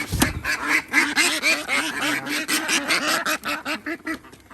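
Many ducks quacking loudly and continuously in rapid overlapping calls, close by.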